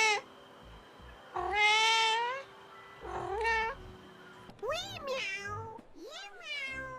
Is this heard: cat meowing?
yes